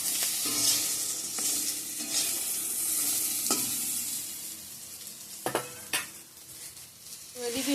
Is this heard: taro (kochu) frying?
yes